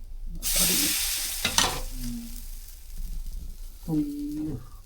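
Egg-dipped bread hisses in a hot frying pan in loud bursts of sizzle as pieces go in and are turned, close up, with brief voice sounds between the bursts.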